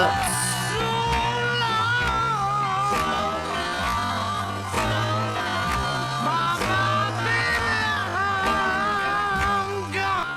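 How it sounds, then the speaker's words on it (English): Sharp, steady hand claps keep time through a song, sitting under the full band and sung vocals for the whole stretch. "With the hand claps."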